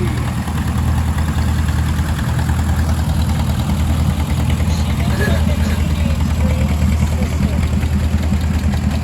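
A 1938 John Deere D tractor engine runs steadily at a classic tractor show, a loud, continuous low idle throb that holds without a break throughout.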